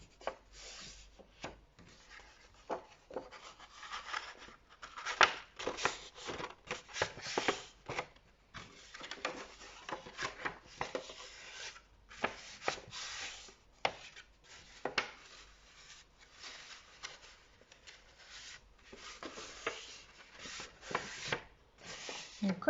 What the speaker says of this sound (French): Voilà, vous allez bien marquer vos plis.